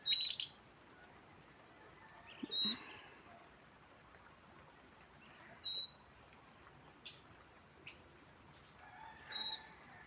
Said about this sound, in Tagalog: Oh, may mga lovebirds sila.